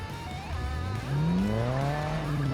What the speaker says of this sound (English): we hit 80 by there, and we pull the handbrake